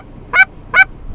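Geese during an early-season North Dakota hunt give two short, clear honks in quick succession over a quiet outdoor background.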